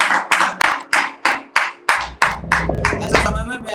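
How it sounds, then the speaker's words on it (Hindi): Hands clap in a steady, loud rhythm, about ten sharp claps close together, at a church women's fellowship session, with scattered voices and claps joining near the end. "जो लोग तैयार हैं ताली बजा दीजिए"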